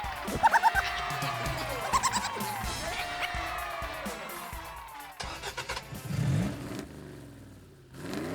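Cartoon car engine sputters to life with a rattling crank and a rising revving whine, followed by chugging bursts and a low rumble that fades out.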